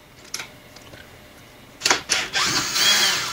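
Power drill running in reverse while respooling a long length of wire: a faint tapping start, then short, loud whirring bursts that swell into a steadier buzzing run near the end.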